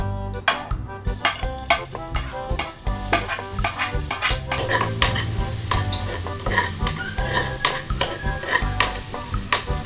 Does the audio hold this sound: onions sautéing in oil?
yes